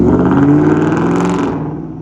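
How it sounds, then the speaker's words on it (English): A truck's engine rumbles loudly nearby as it pulls away, its steady drone thinning and fading toward the end. "And our truck buddy's leaving."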